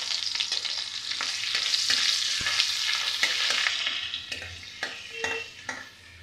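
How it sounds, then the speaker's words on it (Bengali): A piece of butter melts and sizzles in hot oil in a pan, giving a loud, continuous frying crackle close up, with occasional light scrapes and clinks of stirring and no voices. "এই গরম তেলের মধ্যে আমি 1 টুকরো বাটার দিয়ে দেব।"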